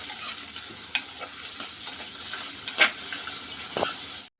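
A spoon stirs two chopped tomatoes into a flat bean curry in a hot pan: steady close sizzling under repeated scraping strokes and soft knocks against the pan.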